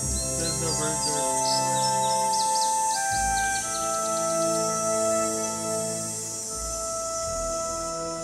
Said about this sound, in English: You can hear the chirp.